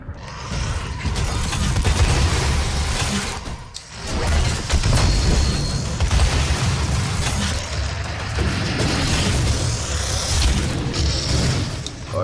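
A rocket launcher being readied in Doom: clanking, ratcheting mechanical sounds with heavy thuds and creaks, loud and continuous against a dense game background, no voices.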